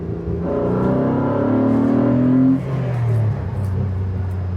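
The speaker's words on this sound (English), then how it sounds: "there's a 3-litre V6 there with carbon air intakes that makes this kind of a noise" A 3-litre V6 engine in a Renault Clio with carbon air intakes revs up with a deep, throaty drone, holds high, then drops back and settles into a rumbling idle, close and alone.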